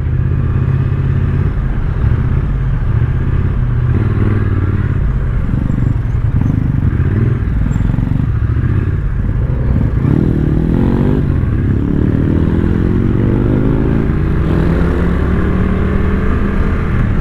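Triumph Street Twin 900 motorcycle being ridden, a loud continuous engine rumble with wind buffeting and occasional rising revs, heard up close from the rider's position without talk.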